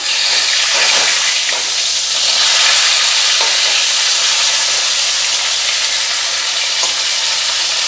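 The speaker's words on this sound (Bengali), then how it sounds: "মিডিয়াম টু হাই ফ্লেমে ভাজা হবে, ভাজা ভাজা হোক" Rohu fish frying in oil in a pan over a medium to high flame: a loud, continuous sizzle and hiss holds steady throughout, with faint clicks and pops.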